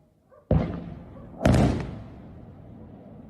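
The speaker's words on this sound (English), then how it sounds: "We can hear the explosions in the distance." Two deep, muffled booms about a second apart, the second one louder, come from distant rocket or missile explosions over a quiet background during the war in Ukraine near Melitopol.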